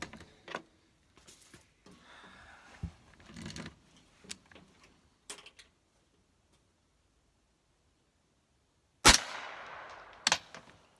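A suppressed Allegiance SilentStrike gun fires two quiet, sharp shots close by, each a brief crack followed by a short rattling tail, spaced about a second apart after a stretch of silence and faint handling noises.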